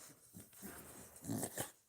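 Pet dogs whimper and whine excitedly at close range, a few short soft bursts with breathy snuffles, fairly quiet with no talking.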